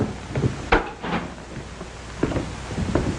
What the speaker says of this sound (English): Riley, take the door.